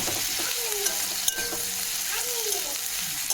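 Ginger, garlic and dried red chilli paste sizzles and fries with onions in oil, a continuous close hiss with occasional spatula stirring scrapes throughout.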